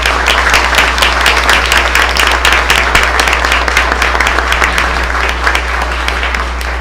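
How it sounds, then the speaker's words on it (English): Audience applause at a school board meeting for Plano ISD teachers, a sustained dense wash of many hands clapping at steady loudness throughout, without talk. "Let's give a final big round of applause to all of these amazing Plano ISD teachers."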